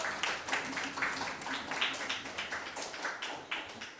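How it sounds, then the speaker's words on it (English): Applause for youth parliamentarians at a Nevis Youth Parliament mock sitting, a modest crowd clapping steadily in a room, moderately quiet with individual claps distinct. "Can we give them a round of applause?"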